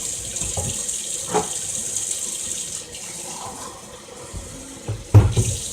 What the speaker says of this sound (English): Add just a tad bit more water real quick.